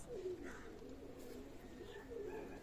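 Pigeons of an Omani bloodline coo in low, soft rolling phrases, one near the start and another near the end, over a steady hum of loft background noise.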